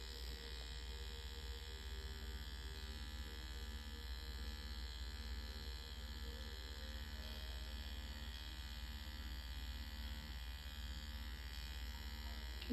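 Nanoblading permanent makeup needle device for eyebrows, a steady close electric buzz with constant mains-like hum, continuous and even throughout with no talking.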